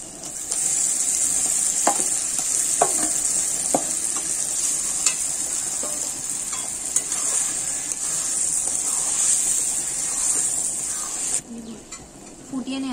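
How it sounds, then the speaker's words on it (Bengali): Boiled bottle gourd and potato being stirred into spiced oil, a steady hissing fry with scattered scraping strokes and soft knocks of a spoon, fairly close, the hiss dropping away near the end. "এবারে এর মধ্যে আমরা সেদ্ধ করে রাখা লাউ আর আলুটা দিয়ে নিচ্ছি।"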